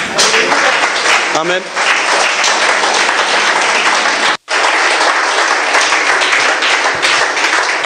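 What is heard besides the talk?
church congregation applauding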